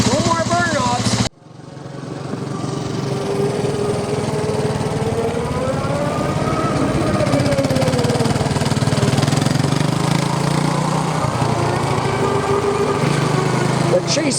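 A chase vehicle drives steadily with a loud, continuous engine drone that rises and falls in pitch, staying close throughout, with a brief cut near the start before the engine noise returns.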